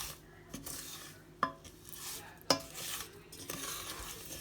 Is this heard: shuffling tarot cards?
no